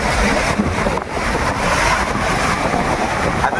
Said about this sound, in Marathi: पटकन लाट वरती येईल.